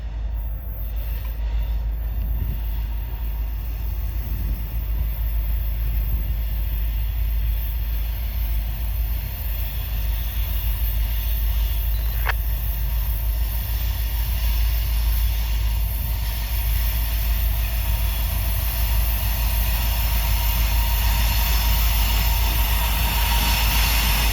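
A Norfolk Southern mixed freight train with two locomotives passes close by, a loud continuous rolling rumble of railcars with wheel noise and a brief high squeal partway through.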